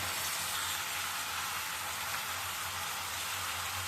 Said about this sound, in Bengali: বৃষ্টি হচ্ছে বন্ধুরা, বৃষ্টির আওয়াজটা আসছে।